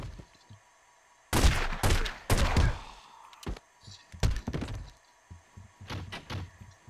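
Enemy shotgun blasts in the mob game The Godfather Mob Wars, sharp loud booms in a cluster early on, then scattered thuds and shots with quiet gaps between.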